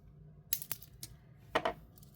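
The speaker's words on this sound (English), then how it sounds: "And now we're going to snip this off." Snipping beading wire for a three-strand bracelet: a few crisp, close clicks and small metallic snips, spaced apart in a quiet room.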